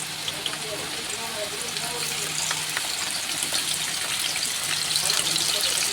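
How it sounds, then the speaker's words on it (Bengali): Potato pieces frying in oil in a wok, a continuous close sizzle and bubbling hiss across the whole stretch, with faint background murmur but no clear talk. "সব আলুগুলোকে ভেজে নেব, তারপরে মাংসটা রান্না করব।"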